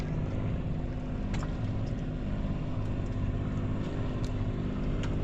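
A passing boat's motor drones steadily at a moderate distance, a constant mechanical hum with no voices.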